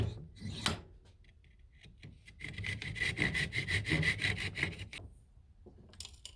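A hand saw rasps through wood in steady rapid back-and-forth strokes, close and fairly loud, with a few knocks before and after.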